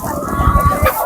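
Andijan black chickens cluck in a short, close, fairly loud burst of several throaty calls, with a faint high tone running underneath.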